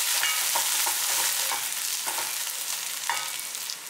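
Finely chopped small onions (shallots) frying in oil spiced with asafoetida for village-style tiffin sambar, a continuous near sizzle broken by soft scrapes and taps of a spoon stirring the pan, no voices.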